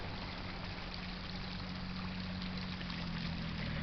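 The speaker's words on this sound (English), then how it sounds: "The running water from the fire hydrant." Water rushing from a fire hydrant being flushed, a loud, steady, unbroken hiss of gushing water with a low hum underneath and no pauses.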